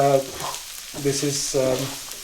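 Chilies fry in hot oil, a soft continuous sizzle with a few brief stirring scrapes, fairly quiet and close.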